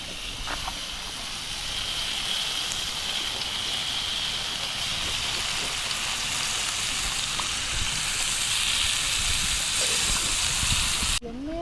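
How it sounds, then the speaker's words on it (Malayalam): Fish sizzles in a chapati pan at a lakeside cookout, a continuous loud hiss and crackle of frying oil that runs unbroken before ending abruptly. "മീൻ പൊരിക്കുന്നു"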